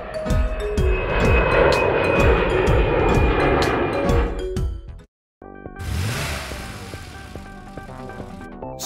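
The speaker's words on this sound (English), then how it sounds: "Jet Airlines." A jet airliner roars loudly and steadily with a broad engine rush, then after a brief break continues as a second passage of engine noise.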